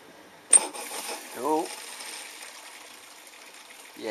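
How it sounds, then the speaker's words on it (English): A Bosch dishwasher on an Eco 50 cycle starts up: a sharp mechanical click, then a soft rushing of water filling and swirling inside, with faint mechanical whirring underneath, fairly quiet and close. "So, hopefully, we should be able to see some water flowing around here."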